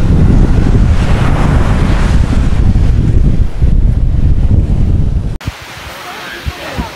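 Beach at Vrasna, Greece, with waves washing ashore and strong wind buffeting the microphone, loud and continuous, easing slightly near the end.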